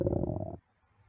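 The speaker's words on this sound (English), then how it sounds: "Just then, Cynder's stomach growled." A stomach growls in a short, loud, rumbling gurgle with a pulsing, throaty texture, lasting about half a second before cutting off to near silence.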